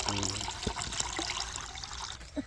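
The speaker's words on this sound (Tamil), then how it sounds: "இப்போ நம்ம ஜூஸ் புழிஞ்சு எடுத்த ஜூஸ் ரெடியாக இருக்குது இதில் ஐஸ் வாட்டர் சேர்த்துக்கிறோம் கூலிங் தண்ணி" Ice-cold water poured into freshly squeezed orange juice, a steady close trickle and splash running through the whole short moment, with no talking.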